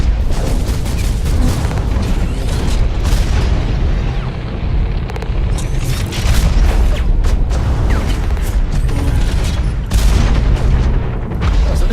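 A rocket fired in Hawken gameplay, followed by continuous loud blasts and booming explosions with crackling gunfire layered throughout and no talk.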